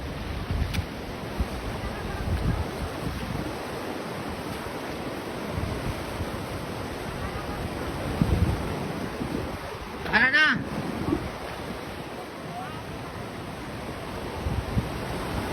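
Floodwater of a rising river rushes steadily with broad turbulent noise, wind buffeting the microphone throughout and a brief sharper splash near the middle.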